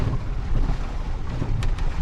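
Wind and water rushing against the hull, heard below deck of a sailboat under way, a loud steady low rumble and whoosh with a couple of brief creaks or hisses near the end.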